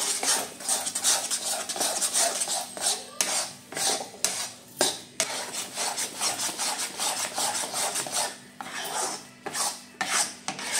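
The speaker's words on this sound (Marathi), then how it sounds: "बघा किती मस्त आपला बेसन शिजत आहे, चांगलं भाजत आहे" Besan (gram flour) roasting in a pan while a spoon or spatula stirs it, producing a continuous dry scraping and rasping with steady strokes, close and fairly loud, with no talking.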